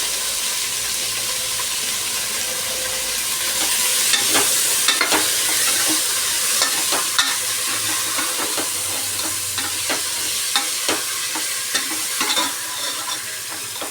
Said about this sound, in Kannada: ಈಗ ನಾನು ಅರಿಶಿನ ಪುಡಿ ಹಾಕ್ತಾಯಿದ್ದೀನಿ.